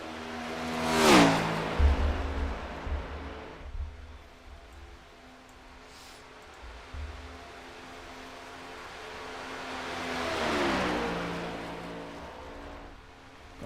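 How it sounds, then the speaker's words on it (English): A number 88 Nationwide Chevy stock car roars past on a sim-racing oval, its engine whine rising and falling in a sharp Doppler sweep, then fading before a second car swells in and passes again. "Chris Otto, he's coming out on track, driving that number 88 Nationwide Chevy."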